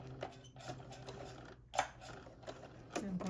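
A sewing machine stitches a sweatsuit seam in quiet, uneven mechanical bursts of whirring and clicking, with a short pause midway and a faint tone at the end.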